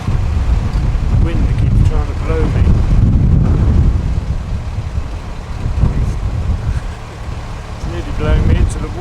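Gusty wind buffets the microphone with a heavy, rumbling roar aboard a narrowboat cruising the canal near Norton Junction, rising and easing across the stretch while someone talks over it.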